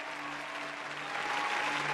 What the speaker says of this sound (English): Can you hear those claps?